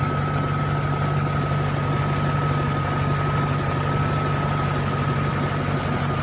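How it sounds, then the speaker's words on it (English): Car engine idling steadily with a loud secondary air pump running, a constant droning hum with a high whine on top, close and unchanging throughout. "That secondary air pump is so loud when it's on."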